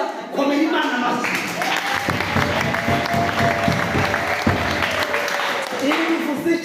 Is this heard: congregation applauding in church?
yes